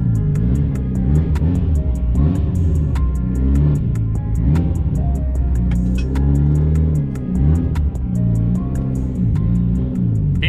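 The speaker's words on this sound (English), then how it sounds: "That turbo is so loud." A loud turbocharged Mitsubishi Evo engine revving and accelerating, pitch rising and falling through gear changes, with a rapid ticking pattern on top and a constant rumble.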